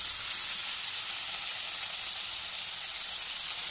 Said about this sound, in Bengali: কড়াইটা ধুয়ে তেল দিলাম, তারপরে একটু জিরে ফোড়ন দিলাম, ছেড়ে দিলাম বাঁধাকপি ফুলকপি গাজর বিট সব একসাথে মিশ্রণ সব ছেড়ে দিলাম